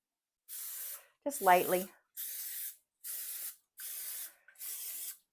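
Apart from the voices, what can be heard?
cooking spray sprayed onto bagels in pan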